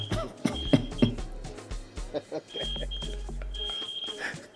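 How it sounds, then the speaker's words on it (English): A smoke alarm sounds in the background of a caller's phone line, giving intermittent high electronic beeps beneath ongoing talk and low rumbling noise. "This guy is calling with his alarm in the back."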